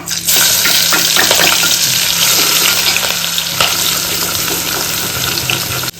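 Curry leaves, bay leaves and garlic crackle in hot oil, giving a loud, dense, steady sizzle with scattered pops that cuts off abruptly at the end, with a low hum underneath.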